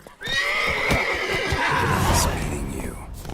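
A horse in The Witcher 3: Wild Hunt video game lets out a loud, drawn-out neigh, whinnying with a rising and falling pitch, along with hoof clatter underneath.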